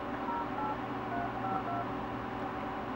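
Telephone keypad tones sound steadily over a low background hum as a phone dials a number to reach a Google Voice voicemail.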